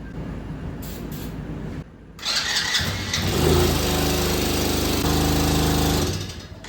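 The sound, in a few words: quad ATV engine running then cutting out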